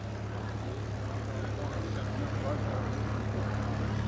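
Vintage Percival Gull light aircraft with a 200 horsepower Gipsy Six engine, heard as a steady, continuous propeller drone with a low harmonic hum, holding an even level throughout at a moderate distance.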